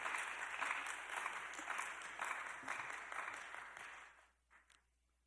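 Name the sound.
congregation applause welcoming the missionary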